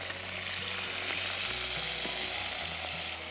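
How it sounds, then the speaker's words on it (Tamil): Coriander leaves sauté in a hot pan while mushroom biryani is being made, giving a steady, loud, continuous sizzle close up with faint utensil movement underneath and no talking. "கொத்தமல்லி போடுங்க வதக்குங்க"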